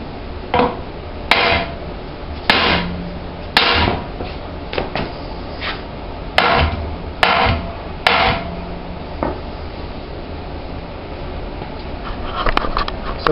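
Hammering on a Dana 44 front axle housing during a cut-and-turn job: sharp metallic strikes land one by one at irregular intervals, loud and close, over a steady background hum with no talking.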